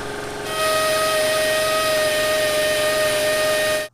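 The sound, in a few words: Astro belt sander on car body dent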